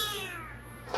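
A pet cat named Sputnik gives a single drawn-out meow that holds steadily for most of a second, close and clear, ending in a brief breathy burst with no talking.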